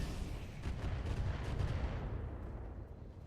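Mech weapons firing in Roguetech, a BattleTech game: a dense, rumbling volley of heavy booms and crackling impacts, moderately loud and continuous, easing off toward the end.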